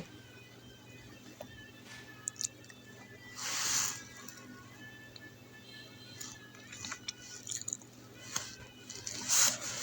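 A trowel spreads cement mortar across a room floor for laying 24×24 floor tiles, giving faint, wet squishes and soft scrapes in short bursts against a quiet background.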